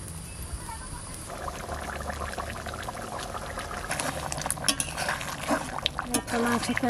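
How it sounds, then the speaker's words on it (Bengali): Water is poured into chicken curry frying in a pan on the stove, giving a steady sizzle and liquid splash with some stirring and utensil clatter, growing louder toward the end. "এবার জল দেবো"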